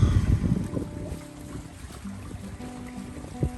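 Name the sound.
sailboat under sail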